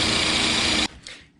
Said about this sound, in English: Drill a 1-inch hole.